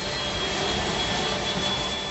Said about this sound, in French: Les missions se terminent toujours par une manœuvre périlleuse, l'appontage.